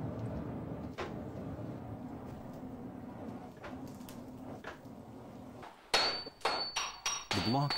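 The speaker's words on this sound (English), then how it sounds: "The block is stretched by hammering it to double its original length before folding." A hammer strikes a steel block being forged into a Japanese samurai sword, a run of sharp ringing metallic blows near the end following a muffled rumbling stretch.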